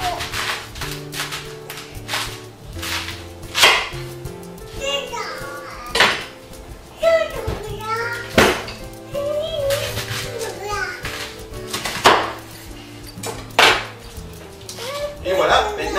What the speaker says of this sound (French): On va commencer par couper notre chou.